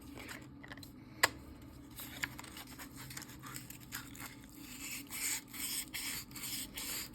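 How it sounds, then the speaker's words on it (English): A tobacco pipe bowl from a Peterson 406 restoration has its inside rim bevelled by hand, with soft, close rubbing and rasping strokes, quiet and irregular, plus a few sharp little clicks. "Try to bevel that inside edge of the bowl a little bit"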